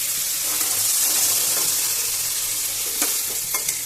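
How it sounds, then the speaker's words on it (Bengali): Chickpeas with their water poured into a frying masala, giving a loud, steady, close sizzle and bubbling hiss that runs the whole time with a few stirring scrapes and no talk. "দেখুন আমি দিয়ে দিলাম জল সমেত চানাগুলোকে। এবার এটাকে ভালো করে কষাবো।"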